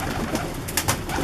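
A full-colored pigeon coos softly in short bursts against a steady, noisy outdoor background, with no talking.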